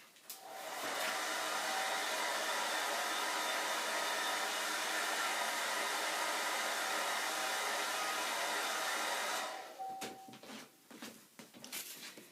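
A hair dryer blowing on an alcohol ink painting of trees and foliage runs steady and loud for about nine seconds, a constant whooshing roar, then cuts off, leaving a few light clicks and handling sounds.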